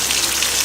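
Onions tossed into hot oil already crackling with mustard seeds, chana dal, urad dal, dried red chillies, garlic and curry leaves, giving a steady close hiss and sputter for under a second with a brief louder burst at the end.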